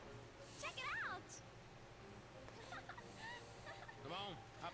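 A bird calls in the Final Fantasy XIII video game, giving several quick rising and falling chirps at low level over a soft ambient background.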